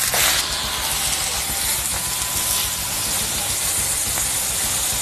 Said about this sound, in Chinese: 那我们先来煎一下这个所谓的西冷还有菲力哈。